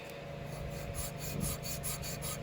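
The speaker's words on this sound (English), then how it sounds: "I'll just take me a little piece of sandpaper here, a little fine sand," Fine sandpaper strip rubbing back and forth over a poured pewter bolster on an antler handle, a close, steady rasping scrape with soft rhythmic strokes.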